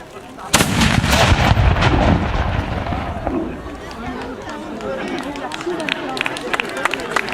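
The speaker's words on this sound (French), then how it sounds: "Attention, coup de feu." A sharp, loud gunshot cracks out at a historical reenactment event, followed by a burst of crowd noise and scattered commotion that slowly settles.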